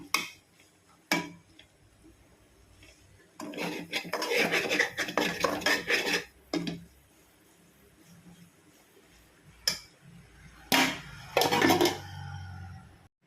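Vegetables being sautéed in a pan for fried rice, with bursts of scraping and stirring, sharp clinks of a utensil against the pan, and quieter gaps between them.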